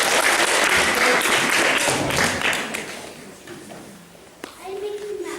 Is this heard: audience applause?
yes